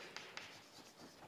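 Pen on paper writing a table title by hand, soft quick scratching strokes close by, faint and brief.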